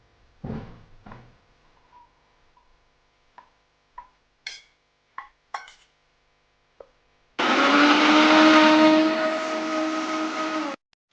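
A blender puréeing tomatoes runs loud and steady for about three seconds near the end, after a few sparse kitchen clicks and knocks.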